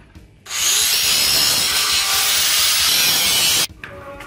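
A steel Jeep skid plate is cut with a power tool, a loud, steady grinding screech held for about three seconds close by, starting and stopping abruptly, with no talk.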